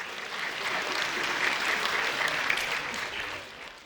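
Steady, dense applause from a festival audience at a children's song contest, a continuous wash of clapping that holds evenly throughout and tapers slightly at the end.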